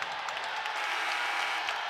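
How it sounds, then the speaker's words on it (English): Basketball arena crowd roaring steadily for a walk-on substitute entering a men's college game, a dense, sustained wall of cheering and applause with no breaks. "And the crowd, as loud as it's been in a while for a particular substitute"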